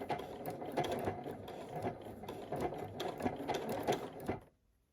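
A sewing machine runs a blanket stitch around an interfaced heart appliqué, a close steady mechanical whir with rapid rhythmic needle clatter that stops abruptly near the end.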